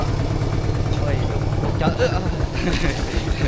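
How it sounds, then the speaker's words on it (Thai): A tractor engine runs steadily with a low, rumbling idle-like drone while being ridden along a rural road in the Laos countryside. A voice talks over the constant engine noise. "ตอนนี้กับบรรยากาศขี่รถไถของข้าเจ้าออกไปน้อยนึง"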